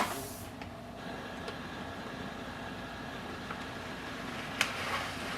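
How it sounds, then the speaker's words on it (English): An HP DeskJet 4278 printer copies and prints pages with a quiet, steady mechanical hum, soft hiss and a few faint clicks, heard alone at low volume. "just wait for the printer to print."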